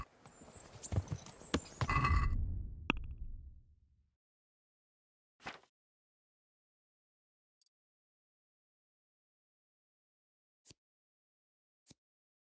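Horse hooves clip-clop in a rapid burst in the Kingdom Come: Deliverance video game. The clatter fades after about four seconds and is followed by a few sparse, isolated clicks and silence.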